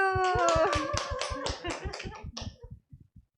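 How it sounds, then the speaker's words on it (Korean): A group claps hands in a quick, even burst of applause at a Korean community radio gathering in Changsin-dong. A voice is briefly heard at the start, and the clapping thins out to a few last claps. "우리 모두 선생님들의 꿈들을 응원하면서 박수!"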